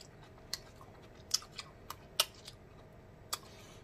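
Soft, close mouth sounds of chewing a bite of cream cheese stuffed jalapeno pepper, with sparse sticky clicks and smacks scattered over quiet background.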